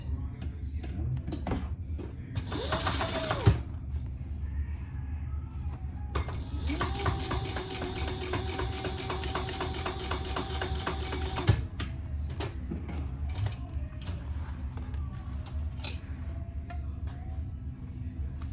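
Sewing machine top stitching a sling bag with rainbow thread, running in a brief burst and then a longer steady rattling run, with clicks and handling noises around it.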